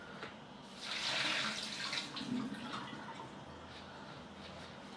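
Cold tap water runs into a pot of quartered potatoes set for boiling, a steady broadband rush that swells early on, then settles into a quieter continuous flow to the end.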